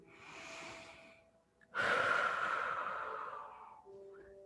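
Slow breathing during a yoga exercise, with a soft breath followed by a longer, louder exhale lasting a couple of seconds, close and alone.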